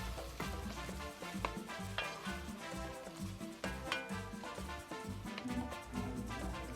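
A shrimp taco mix with salt and pepper is stirred in a hot pan, steady sizzling and frying with soft scraping strokes throughout, close and without talk.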